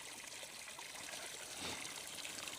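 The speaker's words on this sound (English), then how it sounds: "So now the water's coming from the pump through the filter, flushing all the crap that's going onto the flower bed." Waste water from an Oase Filtoclear pond filter flows out through a discharge hose onto a flower bed, a steady soft trickling wash with no talk.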